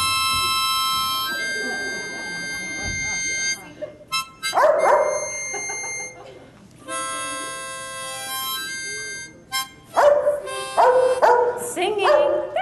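A child at a talent show imitates a dog with repeated barks, yips and whimpering howls in uneven bursts, loud and close, with stretches of other sustained voices in between.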